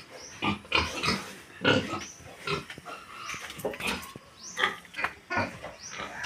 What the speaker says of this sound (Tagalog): pasisilip ko po sa inyo ang baboy